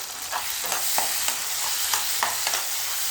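Small tomatoes sauté in a pan under a steady sizzle, with a spatula stirring and scraping in a regular rhythm of clicks, close up and without talking.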